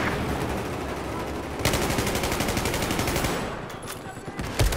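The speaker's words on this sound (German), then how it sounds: "Laufen! Ballern!" Rapid automatic gunfire in a Battlefield 4 team deathmatch, loud sustained bursts of shots crackling one after another, breaking off briefly near the end with a few isolated reports.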